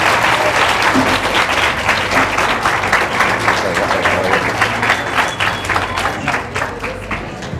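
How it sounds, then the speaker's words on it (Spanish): Dense audience applause fills a hall at the FILBO 2014 book fair after a Ray Loriga session, loud and sustained throughout, easing slightly toward the end. "un aplauso y muchas gracias por su presencia"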